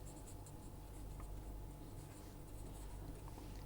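Chalk or pen scratches out a math definition on a board in quiet, continuous strokes. The strokes are faint and steady, with no one talking over them.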